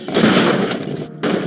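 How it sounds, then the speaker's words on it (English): A three-cylinder supercar in a video game lets off a loud, airy blow-off valve whoosh that runs about a second, cuts briefly, then resumes. "Hear that little blow-off valve."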